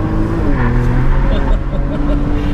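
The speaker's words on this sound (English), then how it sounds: "a Sport Plus exit to the roundabout in exclusive Porsche style" A 2015 Porsche Macan Turbo pulls out of a roundabout in Sport Plus mode at a lakeside resort near Atlanta, its engine and exhaust giving a steady, loud, rising growl throughout.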